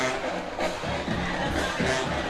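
Crowd noise from a high school homecoming football game between Pell City and Huffman, with the student section in the stands; a steady, dense murmur of many voices with brief swells of cheering throughout.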